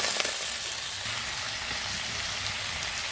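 Papaya pieces fry in a pan for a home-cooked dish, giving a steady, close hiss of sizzling oil with faint stirring, alone and without talk.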